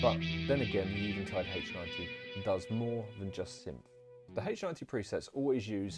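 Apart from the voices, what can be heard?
No distinct noise like a dog, phone or traffic.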